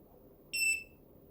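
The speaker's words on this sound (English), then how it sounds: "Only 1 beep." A SHRXY GP-pointer 2 metal-detecting pinpointer gives a single short, high electronic beep at power-on, clear against a faint quiet background.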